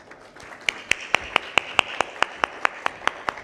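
A single, steady run of hand claps at a customer-experience panel, about a dozen sharp, evenly spaced claps, close and clear with no talk over them.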